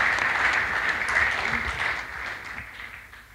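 A church congregation claps together in a sustained, dense round of applause that gradually tapers off, with faint voices mixed in.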